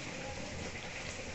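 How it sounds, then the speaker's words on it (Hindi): Rain falling steadily as a dense, even hiss of drops, constant and fairly soft with no voices. "इतना बारिश हो रहा है"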